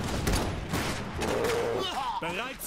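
Cannon blasts and gunfire crackle through a battle in the strategy video game Iron Harvest, dense and continuous, with a voice speaking over the fighting.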